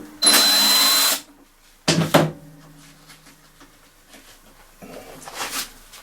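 A power tool with a socket spins off a 10mm bolt on a Hayter 48 lawnmower's rear roller drive cog, with a loud one-second whir, two short sharp bursts, then quieter clicks and handling noise.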